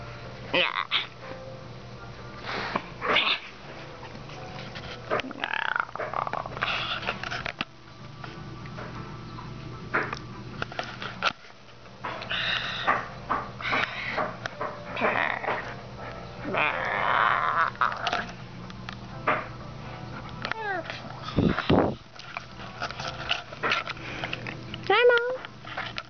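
Dog sniffing and whimpering indoors, with intermittent snuffling bursts and thin whines spread across the stretch, close by, while a person talks at times.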